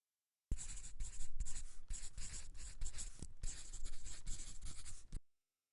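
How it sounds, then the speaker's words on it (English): Pen strokes scratch across paper as a math equation is written out by hand, a close, quiet sequence of short scribbling bursts and taps lasting about five seconds with no talking. "So let me write the left-hand side of the equation again."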